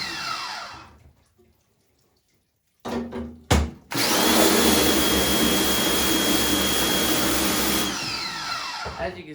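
A water spray rinses emulsion off a screen printing screen, starting with a loud, broad hiss that fades to quiet. After a silent gap and a few bursts, a steady close, rushing spray runs for several seconds.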